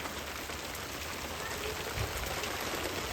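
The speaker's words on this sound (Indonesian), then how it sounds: "Hujan es batu." Steady, faint hail clattering and pattering down in a continuous wash of falling ice, heard outdoors during a sudden cold hailstorm.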